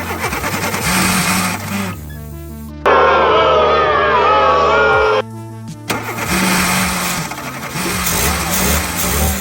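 A VW Golf left standing for three years cranks and fires up, a loud, steady engine roar lasting a couple of seconds and then cutting off, with other sound running before and after.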